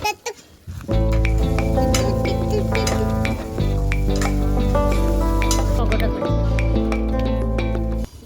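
Ginger paste, curry leaves and coriander frying in a pan, a dense close sizzle with crackles and pops running steadily, while a voice talks over it throughout.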